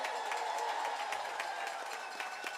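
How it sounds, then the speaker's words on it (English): Faint, distant applause from an outdoor No Kings protest rally crowd in Morristown, New Jersey, a steady patter of many hands clapping with scattered cheers, heard from far off. "give a huge round of applause and thank you to the police officers who are managing all of this for us today"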